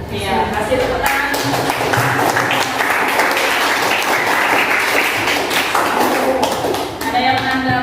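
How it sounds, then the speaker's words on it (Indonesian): A classroom of students applauds loudly with dense, close clapping and some thumps, framed by brief talk at the start and end. "Iya, kasih tepuk tangan."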